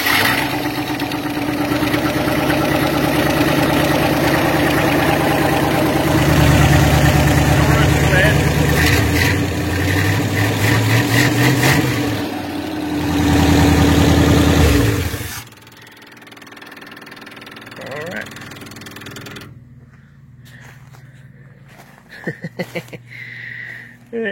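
A 1957 Chevy engine runs after sitting for 22 years, a loud steady rumble for about fifteen seconds before it shuts off, leaving quiet with a few faint knocks and small noises.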